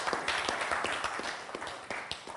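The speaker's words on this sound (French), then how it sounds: "vos applaudissements pour KB Esperel" An audience applauds KB Esperel, a diamond producer honoured at an industry event in DR Congo. The clapping is a faint, steady wash of dense claps that lasts the whole stretch, with no voice over it.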